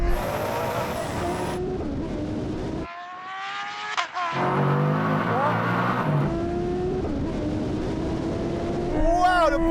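A Koenigsegg Agera RS, a Tesla Model S Plaid and a Suzuki Hayabusa motorcycle in a drag race: engines rev and whine with rising gear-change pitches, a brief quiet gap, then a loud roaring pass and tire noise as people shout excitedly.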